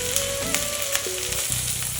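Chopped small shallots, a dried red chilli and curry leaves sautéing in a pan for a crab gravy, a loud close sizzle with stirring clatter and a brief tonal whine over the frying.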